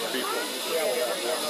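Nickel Plate Road 765 steam locomotive vents steam in a steady, loud, broad hiss that fills the scene outdoors at a crowded excursion without a break.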